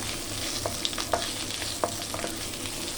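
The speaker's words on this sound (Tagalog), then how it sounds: "haluin lang natin guys" Beef and white onions being stir-fried in a hot pan: a steady close sizzle with a few quick spatula scrapes and taps breaking through.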